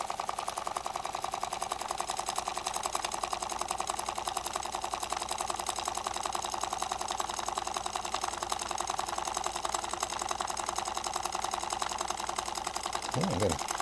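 A homemade generator engine runs with a fast, even, rapid-fire chatter that stays steady and loud throughout, with a brief low sweep near the end.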